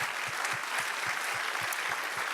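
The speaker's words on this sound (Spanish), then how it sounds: "Démosle otro aplauso al Señor" A church congregation claps through a Spanish-language worship service, a steady rhythmic beat of hand claps in time with one another, loud and close, with a bright wash of crowd noise behind and no one speaking.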